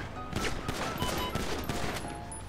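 Rapid bursts of gunfire in a GTA V roleplay shootout between police and robbers, with dense overlapping shots and crackling reports heard fairly close and continuous.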